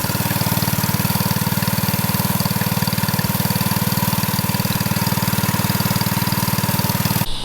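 A rebuilt mini bike engine runs close and loud with a steady, rapid putter at a constant idle, holding without change for several seconds before cutting off at the very end.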